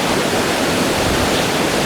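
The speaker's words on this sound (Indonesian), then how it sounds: "Ini dingin-dingin, kena angin, dikasih percikan air terjun." Steady broadband rush of a waterfall in the Kashmir mountains around Pahalgam and Gulmarg, with wind and falling spray, loud and continuous close by with no talking.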